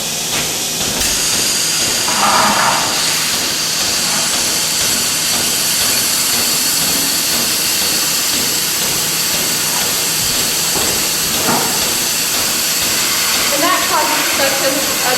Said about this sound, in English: now I have to hook this tube right here with a touch of suction in it